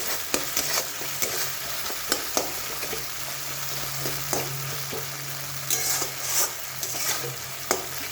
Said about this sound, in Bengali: ভালো করে ভাজা হয়ে যাচ্ছে।